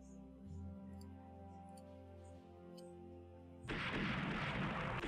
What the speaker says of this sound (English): Oh, we launched a spread.